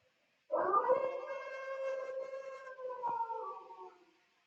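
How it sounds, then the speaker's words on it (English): A wolf gives a single long, wavering howl that rises and holds steady for about three seconds before fading out, clear against otherwise silent surroundings. "C'est un loup."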